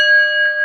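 A bell rings a single sustained, steady tone with bright overtones, loud and close, sounding alone with no voices.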